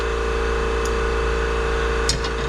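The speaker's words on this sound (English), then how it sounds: "Let me let that compressor quit, because I don't want to run this at the same time as that compressor" Air compressor running in a workshop, a loud steady motor hum and drone that never lets up, with a couple of brief metallic clicks or clinks near the end.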